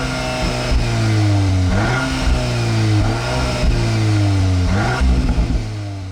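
Quad exhaust of a 2022 Audi S3 sport sedan revving repeatedly, engine pitch rising and falling in several close, loud blips over a steady idle, with no voices.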